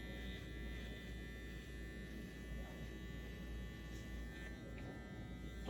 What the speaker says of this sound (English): You could also do is use a clipper.